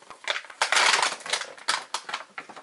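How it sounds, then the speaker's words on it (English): Packing tape being peeled off a collectible swinging figure from a Lootcrate box, close crackling, ripping bursts in several uneven pulls with a long tear near the start, no speech. "let me get this stupid tape off of here."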